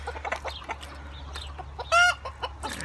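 Hens and roosters cluck in caged coops that are locked at night. The clucks come in short bursts, close by, over a steady low hum. One louder, tonal squawk or crow rises partway through, and no one speaks.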